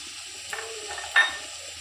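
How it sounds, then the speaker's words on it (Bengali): Spices are stirred into a frying potato dish: a faint sizzle with a couple of soft spoon scrapes against the pan, one sharper scrape near the end, all very brief. "মশলা দিয়ে একটু নাড়াচাড়া করে"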